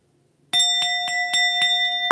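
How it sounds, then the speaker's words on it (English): A bell struck repeatedly, about six evenly spaced strikes with a clear sustained ringing tone, close and loud against an otherwise quiet room. "I'm going to be hitting the bell"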